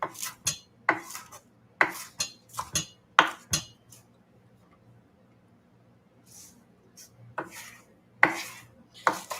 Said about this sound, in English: Just going to do a rough chop and throw this in